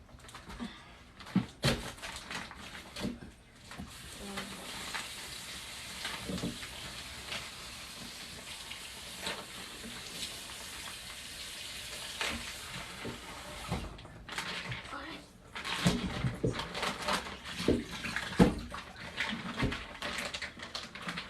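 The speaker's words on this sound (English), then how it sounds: "Pour some water in here." Water poured into a cooking pot for a raw country soup gives a steady splashing, running stream lasting several seconds, followed by clatter and handling noises, close and fairly quiet.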